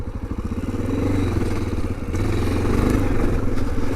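A Honda XR650L motorcycle rumbles along a trail, its single-cylinder engine loud and close with a pulsing thump that builds as it pulls, with no talk.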